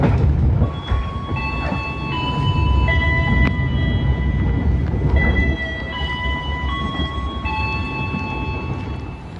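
The Pasundan passenger train stops at Cibatu station in Garut, its brakes squealing in sustained high tones over a heavy rumble of wheels and carriages, loud and close, with no talk.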